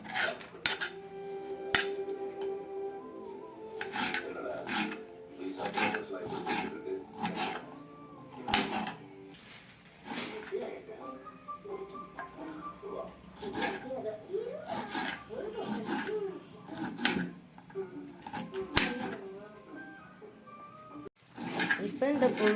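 A knife chops through a banana flower on a cutting board in a home kitchen, giving repeated sharp, close cuts in uneven bursts with occasional scraping between them.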